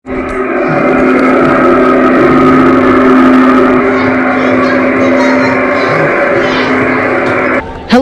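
Tractor engine running at a pig farm, a loud steady mechanical drone with a strong low hum that holds throughout, briefly dipping near the end, with faint background noise around it.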